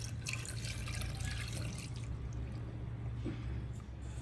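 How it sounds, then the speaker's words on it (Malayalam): Second-extract coconut milk poured into a pot of mutton kurma, a soft continuous liquid pour and splash that thins out toward the end. "ഇത് രണ്ടാം പാല് ഒഴിക്കി"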